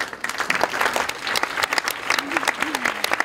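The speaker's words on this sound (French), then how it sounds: "On peut les applaudir." An audience at a book award ceremony claps steadily, a dense patter of many hands with a few louder close claps, while brief voices sound faintly beneath.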